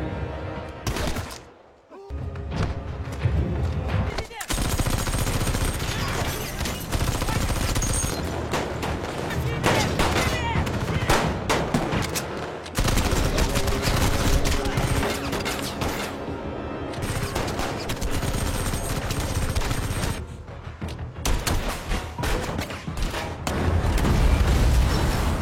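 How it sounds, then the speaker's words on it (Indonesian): Heavy gunfire in a brutal shootout between passengers of a truck and police, loud sustained bursts of shots and booms filling nearly the whole stretch, with only brief gaps between volleys. "Para penumpang di belakang mengambil senjata dan menembaki para petugas. Baku tembak brutal segera terjadi."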